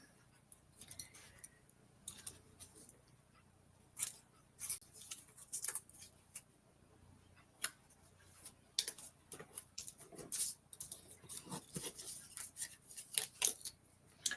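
Scissors trimming paper during card making, heard as quiet snips and rustles. The cuts are close but faint and come in irregular bursts, with no talking.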